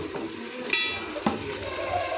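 Frying curry stirred in a pan, a steady sizzle with two sharp metallic scrapes of a spoon against the pan, close and clear, without talk.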